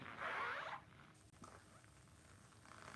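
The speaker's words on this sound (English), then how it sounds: "Much smaller zipper than I'm used to." A small zipper on tactical gear is pulled in one quick, close rasp, followed by faint handling rustles in a quiet room.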